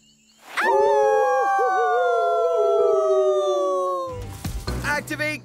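A gray wolf howl in a children's cartoon, one long sustained tonal howl with a wavering pitch that holds for several seconds, then breaks into a short flurry of animated sound effects.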